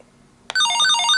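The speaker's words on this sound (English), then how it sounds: "You can change the ringtones here" A walkie-talkie ringtone starts abruptly after a short quiet lead-in, a loud, close electronic melody of bright warbling tones that carries on to the end.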